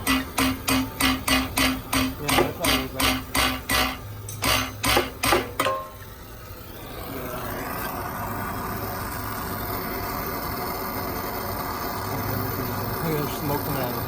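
Metal hammering rings out in a fast, even run of about twenty sharp strikes in a garage during a Nissan 350Z LS engine swap, then stops and leaves a low steady engine-like hum.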